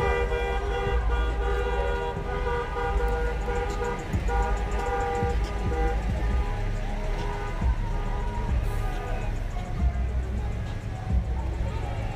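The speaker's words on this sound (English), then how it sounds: "we got a semi to honk for us" A semi truck blasts its horn in one long, loud, sustained tone lasting about twelve seconds over street traffic at a march, with voices faintly beneath it.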